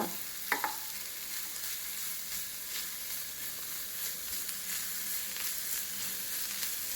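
Vegetables cook in butter in a pan for vegetable noodles, filling the clip with a steady, close hiss and crackle of frying, broken by one brief utensil clink near the start.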